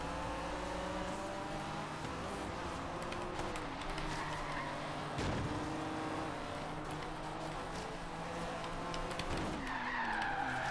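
A Honda NSX in Forza Horizon 3 slides through corners, tires squealing in long skids over a steady engine drone, with a brief louder swell of speed midway.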